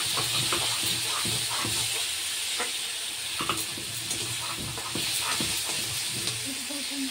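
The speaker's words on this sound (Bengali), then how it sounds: "এখন ভাজা ভাজা যেহেতু হয়ে গেছে, তো এটাকে এখন একটু কষাবো মশলাপাতি দিয়ে" Bele fish frying in a pan as spices are stirred in, giving a steady close sizzle and hiss with scattered scraping and clinking of a utensil against the pan throughout.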